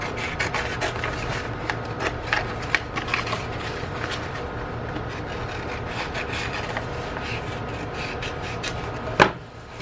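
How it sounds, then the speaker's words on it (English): Scissors slice through laminate sheet along a marked line, a close run of short crisp snips and rasping rubs, ending with a brief sharper rustle as the material is handled. "I'm just going to pick it up and cut along here"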